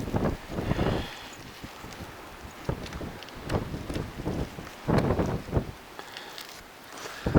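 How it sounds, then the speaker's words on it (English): Gusting wind blows across an open Dartmoor hillside, buffeting the microphone in uneven rumbling bursts that rise and fall over several seconds, close and fairly loud. "I think the wind's picking up."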